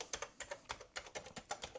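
Keys on a vintage computer keyboard are pressed in quick succession, about fifteen close, light clicks in an uneven typing rhythm, heard alone and fairly faint.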